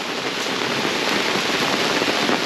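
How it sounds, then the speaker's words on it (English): Small pea-sized hail pelting a campsite, a dense, steady hiss of tiny impacts that stays loud and even throughout with no voices. "Just got back to camp and it is hailing."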